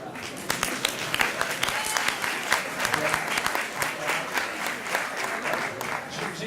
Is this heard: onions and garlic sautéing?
no